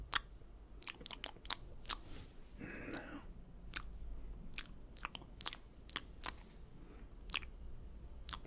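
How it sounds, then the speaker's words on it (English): Close-miked chewing of tender seasoned food, with wet smacks and crisp clicks at an irregular rhythm, one longer squishy bite partway through and a low steady background hum, intimate and mouth-near. "It's got a lot of my mouth, so that's why I'm chewing quite a bit."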